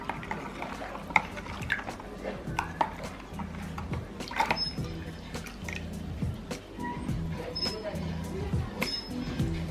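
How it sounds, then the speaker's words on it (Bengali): Spices for pani puri filling being mixed in a bowl, with irregular spoon clinks, taps and soft wet stirring close up, and a voice speaking now and then. "এবার এটাকে আমি ভালো করে মিশিয়ে নিচ্ছি।"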